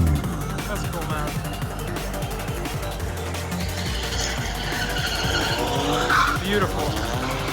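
Toyota GR86 with loud aftermarket exhaust pipes drifting at a GR/GT 86 drift meet in Japan, a steady, dense exhaust roar mixed with tire squeal and skidding throughout, with a brief spoken word over it.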